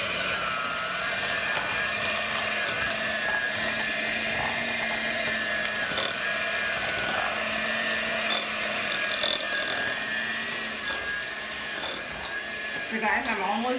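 Electric mixer creaming butter together with sugar for cranberry pistachio shortbread dough, a constant droning motor hum with faint scraping that holds steady at close range the whole time.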